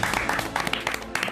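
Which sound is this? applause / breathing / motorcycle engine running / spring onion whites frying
applause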